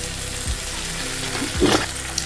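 Poppy seed paste frying with spices in a pan, a soft steady sizzle with a couple of low stirring scrapes and a brief brighter sputter near the end, close by with no talk.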